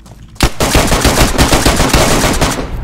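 Dense, loud automatic gunfire from the DayZ Standalone video game erupts after a brief quiet start and continues as rapid, rattling bursts to the end, with no talking.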